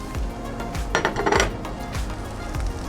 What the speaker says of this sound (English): Use our spatula because that griddle is hot to kind of get it in the shape that you want